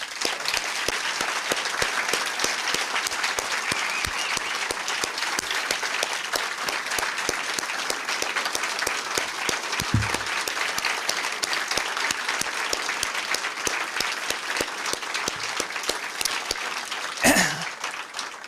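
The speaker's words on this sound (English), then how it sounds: "Let's give our inductees one big round of applause." A crowd applauds the inductees at a 2016 Wall of Distinction ceremony with a long, steady round of clapping that holds for nearly twenty seconds. A few louder individual claps and a faint voice come through near the end.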